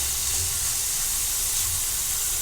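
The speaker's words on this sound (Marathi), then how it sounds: "आता ही दुसरी बॅच आहे, आपण ही देखील अशी लालसर भाजून घेणार आहोत." A batch of paneer shallow-frying until reddish, giving a loud, even, close hiss of oil that runs without a break and with no voices.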